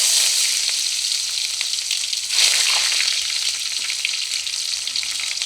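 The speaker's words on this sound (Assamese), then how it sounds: "মোৰ তেলখিনি গৰম হৈ গৈছে। মই 2টা শুকান জলকীয়া পোৰণ দি দিছোঁ। জিৰা কেইটামান দিছোঁ পোৰণ।" Dry red chilies and cumin seeds sizzle loudly in hot oil, a steady close crackling hiss that swells briefly midway, with no talking.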